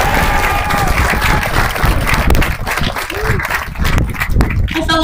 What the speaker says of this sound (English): Give them a round of applause, graduates.